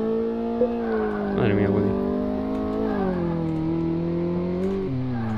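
Car engine revving on a test circuit in the video game Car Mechanic Simulator 2018, a steady droning tone that rises and dips in pitch as the throttle changes, with someone talking over it briefly.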